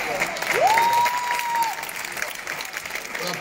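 Crowd applause for the staff at an Italian theatre tribute event, a full, sustained clapping that peaks early then eases slightly, with a brief whistle-like tone and some voices underneath.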